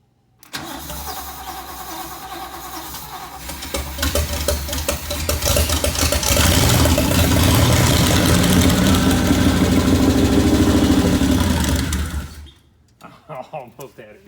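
1963 Jetfire car with a 4-speed, started for the first time in 30 years, cranking and catching into a loud, rough, uneven running engine that revs and surges before shutting off, with voices over it.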